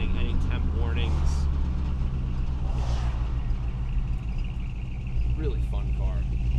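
A 1969 Buick Riviera driving under heavy load, a steady low engine rumble and road drone running throughout, with someone talking over it.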